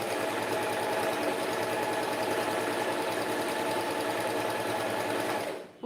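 A sewing machine runs steadily, stitching a fabric lining seam with a wider stitch for a wine bottle holder, a continuous close mechanical whir that stops abruptly at the end.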